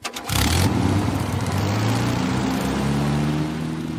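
A hand-built V8-powered snow machine roars to life after a brief start, then holds a loud, steady rumbling idle close by that eases slightly toward the end.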